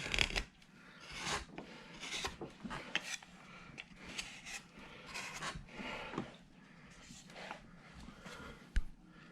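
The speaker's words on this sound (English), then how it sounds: "Let me gouge just a little bit more right in here." Hand gouge scraping across the grain of a wooden bandsaw-cut cowboy carving, a quiet run of close, rasping cuts in an uneven rhythm, with light breathing heard between strokes.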